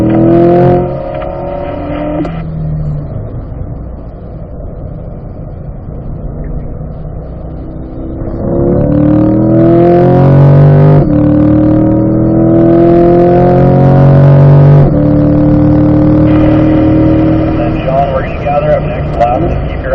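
A car on a lap of a race track, its engine droning and rising through gear changes, loud and close, with someone talking over it.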